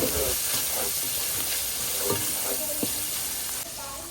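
Onions with cumin, oregano and sazón sizzle in a hot pan, a steady crackling hiss with small pops throughout.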